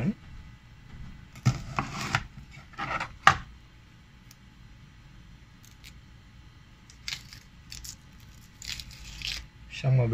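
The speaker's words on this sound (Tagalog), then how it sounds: "Isang mabilis na paraan lang ng pagbabalat ng sibuyas." An onion being peeled by hand in a home kitchen, with a few sharp, dry crackling rips of papery skin in short bursts, set among quieter pauses and faint handling sounds.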